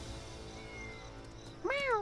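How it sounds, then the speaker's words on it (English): Cat meowing in a video game, a single rising and falling meow near the end over a quiet game background hum. "And then they said the cat is over here. Meow."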